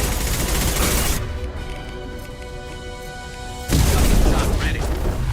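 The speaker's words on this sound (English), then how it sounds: "Watch out, shockwave." A shockwave blast in Mass Effect 2 hits as a loud broadband boom, with a dense wash of rumbling noise at the start and a second heavy burst near the end. Combat sound and game effects fill the rest.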